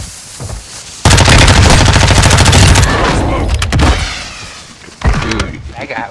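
Explosive-round gunfire in a shooter video game: a sudden loud rapid burst lasting a couple of seconds, fading into a rumbling tail, followed later by another sharp blast. Players talk briefly before it.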